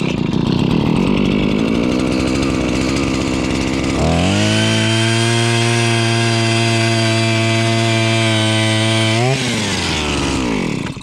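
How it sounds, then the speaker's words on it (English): A big gas-powered ice auger head fitted with synthetic blades roars loudly up close, revving hard as it cuts through about ten inches of ice, then settling to a steady high drone and dropping off at the end. "even though you're running synthetic on a big, powerful gas auger head, it is fast."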